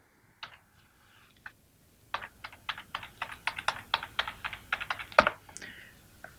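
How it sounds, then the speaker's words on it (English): A computer keyboard clatters as a password is typed, with a few isolated key presses followed by a quick run of close, crisp keystrokes in an uneven rhythm and one louder final tap. "Next, I'm going to hit Tab and come down to the password line and enter in my password."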